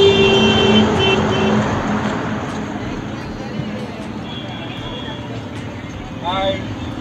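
Steady road and engine rumble from a car cruising along a road on a road trip out of Hyderabad, constant and close, with a brief chirping squeak near the end.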